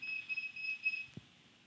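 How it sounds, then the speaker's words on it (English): A multimeter beeps with a high, steady tone, pulsing a few times, close by, followed by a brief soft clunk and quiet. "that's my meter beeping at me"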